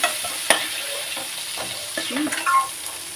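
Turmeric- and salt-seasoned chicken pieces frying in a kadai, a close, continuous sizzle broken by a few sharp clacks and scraping stirs of a spatula.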